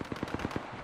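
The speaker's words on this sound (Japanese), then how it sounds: "発砲中。" Gunfire from the video game Apex Legends rattles in a quick burst of about five evenly spaced shots, fairly faint and brief, with no talk.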